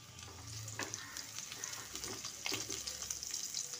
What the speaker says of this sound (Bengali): সেগুলো আমি কড়াই দিয়ে দিচ্ছি এটা একটু ভেজে নিলে খেতে ভালো লাগবে